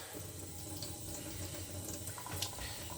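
Water runs steadily and splashes over a GNS 300 sharpening stone being wetted before knife sharpening, a continuous close-up trickle with no talking.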